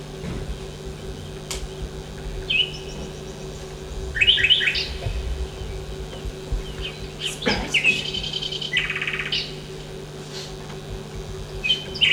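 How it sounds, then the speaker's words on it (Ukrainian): Nightingale song played as a stage sound effect in a student theatre performance, scattered chirps and trills over a steady hum, moderately clear with quiet stretches between phrases. "Вам матусеньку, Матвієму саду соловейко співає."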